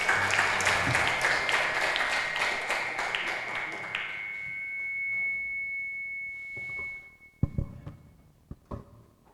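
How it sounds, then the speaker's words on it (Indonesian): An audience at a youth Quran event claps for a guest speaker, a dense round of applause that runs for several seconds and then fades, with a faint steady tone underneath and a few scattered taps at the end. "Kasih aplaus dulu untuk narasumber"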